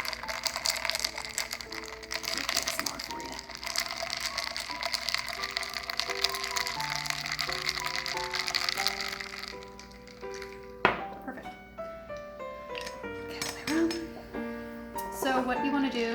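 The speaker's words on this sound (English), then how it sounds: "for the ice that you have in your glass, just swirl it around, make your glass all nice and cool" Ice cubes swirled around in a glass for a kitchen drink, giving clustered clinks and cracking against a busy background mix before thinning into sparse, bright tinkles toward the end.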